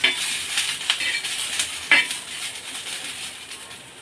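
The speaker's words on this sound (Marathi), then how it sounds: "मिरची थोडीशी ही अजून भाजून घ्यायची मिरच्या भाजत आल्या आहे यामध्ये लसूण पाकळ्या टाकायच्या" Green chilies and garlic cloves roast in a hot pan for a spicy village-style brinjal dish, giving a steady sizzle broken by a few clinks and scrapes of a stirring spoon against the metal.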